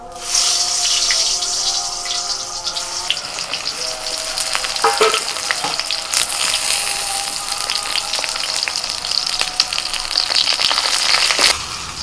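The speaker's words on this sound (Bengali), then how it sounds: "প্রথমে বেগুনটা একটু ভেজে নেব" Eggplant pieces rubbed with salt and turmeric frying in hot oil, a dense, crackling sizzle that runs steadily throughout, with occasional sharper pops and a couple of utensil knocks, no speech.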